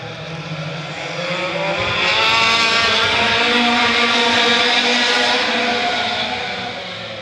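An Audi TT hot rod races down the back straight at Arena Essex Raceway during a 2006 AutoXross meeting, its engine roar swelling loud as it passes and then easing away, steady and without talk.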